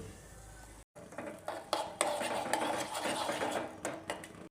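Cashews fried in country ghee are scooped out of a pan for chicken dum biryani, with repeated close metallic scrapes and clinks of a spoon against the pan over a soft background sizzle.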